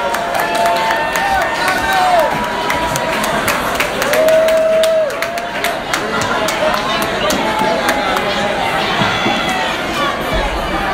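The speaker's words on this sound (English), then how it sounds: "one round of applause for our good friend" A crowd claps and cheers for a performer at Blackpot Festival, a loud, dense wash of applause with scattered whoops and shouts that continues steadily throughout.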